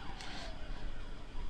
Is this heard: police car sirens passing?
yes